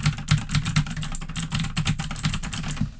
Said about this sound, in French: C'est bruyant, et c'est bruyant notamment parce que ce clavier utilise des switches Gateron bleus.